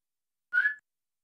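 One short, clear whistle from a person, a single bright tone lasting about a third of a second and heard alone against silence.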